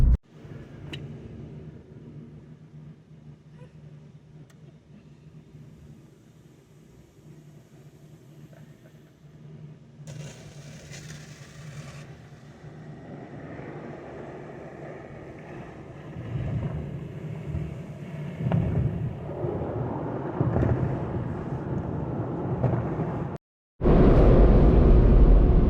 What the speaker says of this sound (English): let's show Joey what a drive-through car wash looks like